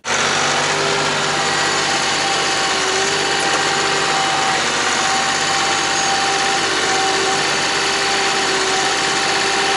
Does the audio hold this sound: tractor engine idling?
yes